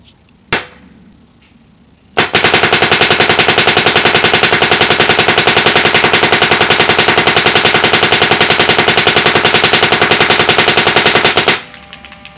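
An ETEK 3 paintball marker with a rotor loader fires in capped ramping mode at 10.5, a fast, steady stream of loud, close shots lasting about nine seconds after a single earlier pop, then stopping abruptly.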